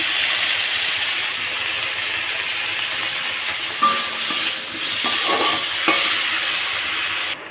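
Potatoes and spices fry together in a pan, a loud continuous sizzle and hiss up close, broken midway by a few scraping stirs and utensil knocks before the frying carries on.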